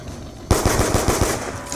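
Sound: gunfire in the video game Call of Duty Tranzit map

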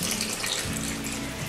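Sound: water being poured in to make cake batter

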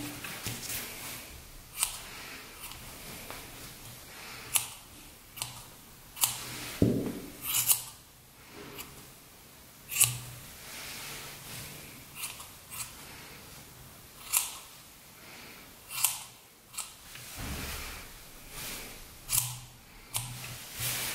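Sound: scissors trimming a yarn pompom

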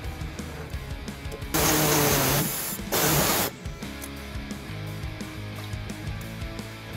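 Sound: air saw cutting a post off a bumper beam

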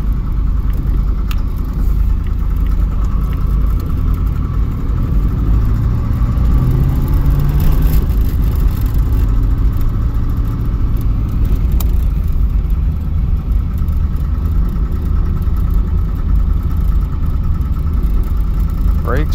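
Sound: 305 V8 engine running

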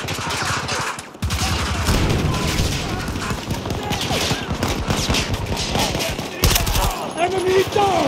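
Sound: gunfire in Battlefield 2042 video game

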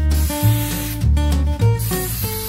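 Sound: Flex Seal spray can spraying

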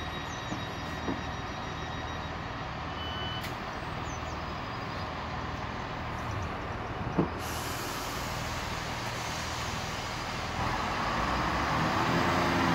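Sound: train passing by

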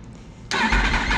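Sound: sport motorcycle full exhaust revving

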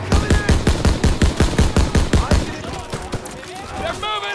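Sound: machine gun fire in Call of Duty WWII video game

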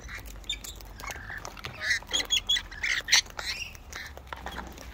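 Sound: birds squawking and quacking

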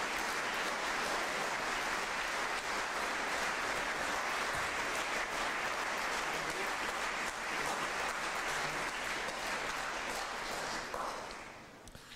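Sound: audience applause for speakers at a lecture

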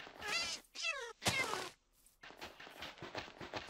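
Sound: cat meowing in a video game

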